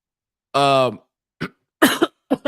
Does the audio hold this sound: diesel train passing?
no